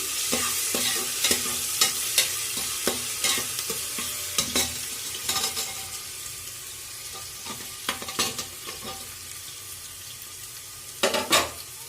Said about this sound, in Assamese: আদা নহৰু কেঁচা গোন্ধ নোযোৱালৈ ভালদৰে ভাজি ল'ম